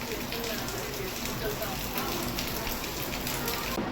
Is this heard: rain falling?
yes